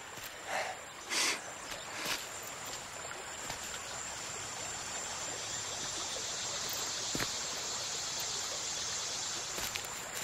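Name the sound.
river flowing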